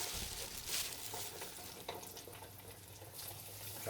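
Coated fish on the bone drops into hot oil and fries with a steady, dense crackling sizzle, close and continuous with small bursts of spatter throughout.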